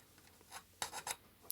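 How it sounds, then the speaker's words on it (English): A round file widening screw holes in an Amiga 2000 case, a few short faint rasping strokes, close and quiet with no talking. "So I'm widening these holes a tiny little bit"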